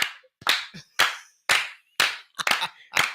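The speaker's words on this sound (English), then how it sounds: "Let's clap it up for Shannon Sharpe" Sharp, distinct hand claps in an uneven rhythm, about nine of them, close and crisp with brief silences between.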